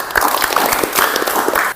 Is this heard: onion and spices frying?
no